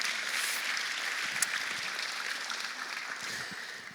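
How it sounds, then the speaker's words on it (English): Audience clapping as a dense, continuous patter that slowly fades toward the end. "Another hand of applause to Norman."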